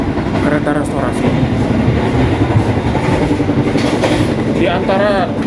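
Steady rumble of a moving passenger train heard from inside the carriages on a trip toward Cirebon, a continuous dense roar with voices talking over it throughout.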